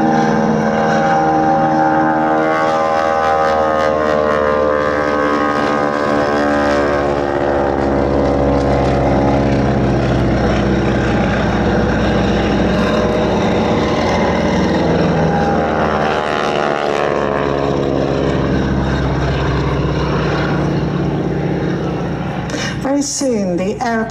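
Propeller aeroplanes carrying wing walkers at the Duxford summer air show, a loud continuous droning engine roar that rises and shifts in pitch as they pass, with an announcer's voice over the public address.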